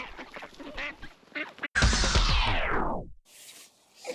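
Ducks kept through winter quack loudly and close by, with one long raspy honking call that falls away, preceded by short choppy calls and followed by a fainter quack.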